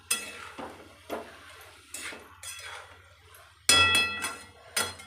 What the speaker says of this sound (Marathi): यावरती झाकण ठेवायचं आपल्याला